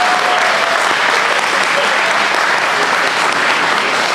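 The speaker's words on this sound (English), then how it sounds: "Let's give all of our candidates a round of applause." An audience at a provincial by-election all-candidates debate in Calgary breaks into steady, loud applause for the candidates, dense clapping sustained throughout without a break.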